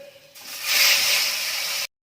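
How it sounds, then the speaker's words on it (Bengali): Bata fish frying in a pan sizzles with a loud, steady hiss that swells and then cuts off abruptly. "এবার অপর দিকটাও একইভাবে ভেজে নেব"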